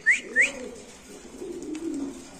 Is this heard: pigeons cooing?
yes